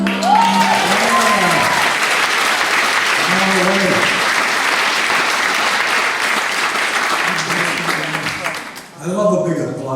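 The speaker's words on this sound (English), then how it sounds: "I love a big applause like that" An audience at the 2018 Silver Creek International Ukulele Carnival breaks into loud, sustained applause that fills the room for several seconds, while a voice talks over the clapping as it fades near the end.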